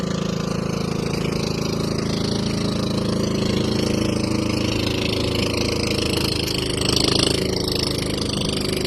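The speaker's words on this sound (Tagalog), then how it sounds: "Kaya kahit low tide, may nakakadaang motor." A motorcycle engine drones steadily through shallow seawater at low tide, a continuous mid-pitched hum with a slight swell toward the end, close and fairly loud.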